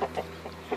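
A few soft, short clucks from a chicken, close by and quiet, spaced out in a brief moment.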